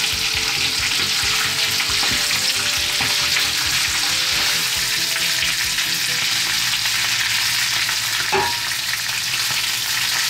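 Spinach with chopped garlic sautéing in a hot pan, a steady loud sizzle throughout with irregular stirring and tossing clatter, no voices.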